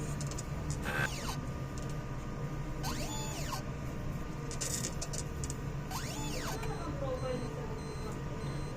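An inkjet printer runs a print head cleaning cycle: mechanical whirring with repeated rising and falling motor tones and light clicks over a steady hum, close by.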